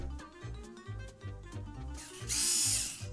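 A cordless drill-driver whirs in short bursts, its motor revving up and down a few times and then running a longer, brighter stretch; nearby and fairly loud with no talking.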